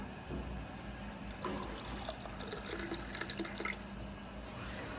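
Water is poured into a small glass as a soft, continuous trickle with light splashing, faint and close, lasting several seconds without any talking.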